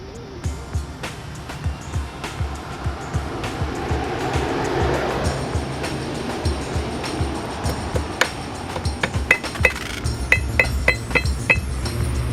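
Metal parts clink sharply while a pump cone is refitted on a vintage Sea-Doo watercraft, with scattered close taps and knocks over a steady low rumble, the clinks growing brighter and more frequent toward the end.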